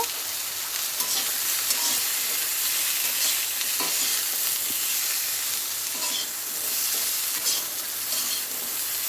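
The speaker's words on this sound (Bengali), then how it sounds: "অল্প একটু লবণ দিয়ে দিলাম, অল্প একটু হলুদ দিয়ে দিলাম, দিয়ে সবজিটা আমি নেড়ে চেড়ে হালকা ভেজে নেব" Raw green banana and drumstick vegetables seasoned with salt and turmeric, stirred and lightly fried in a pan, giving a loud continuous close sizzle with soft scrapes from a stirring spoon, and no speech.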